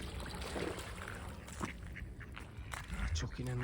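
Ducks quacking on top of a canal bridge, a few short calls toward the end over steady outdoor wind noise, with someone talking nearby.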